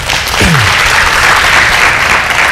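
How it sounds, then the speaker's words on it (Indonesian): Studio audience applause on a health talk show: loud, full, continuous clapping from many people for about two and a half seconds, with a short voice fragment near the start. "Tepuk tangan buat Dokter Daniel."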